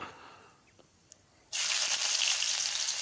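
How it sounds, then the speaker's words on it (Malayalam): Two cloves, a cardamom pod and a piece of cinnamon drop into hot coconut oil in a cast-iron wok for a vegetable kurma. After a quiet start, a loud, dense sizzle with crackles erupts abruptly and keeps going. "ചീൻചട്ടിയിൽ വെളിച്ചെണ്ണ ഒഴിച്ച് രണ്ട് ഗ്രാമ്പു ഒരു ഏലക്കായ് ഒരു കഷ്ണം പട്ട എന്നിവയാണ് പൊട്ടിക്കുന്നത്"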